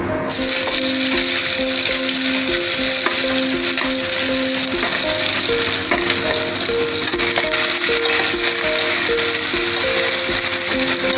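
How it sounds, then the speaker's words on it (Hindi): Sliced onions frying with cumin and mustard seeds in hot oil, a loud continuous sizzle from start to finish under steady background music. "जीरा और राई अच्छे से भुन चुके हैं, तो अब मैं इसमें डाल रही हूँ प्याज।"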